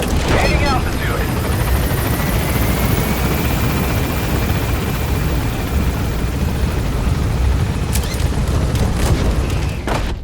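Helicopter in the Metal Gear Solid V video game, its loud steady rotor roar and engine whine filling the scene continuously and up close, with a radio voice talking over it.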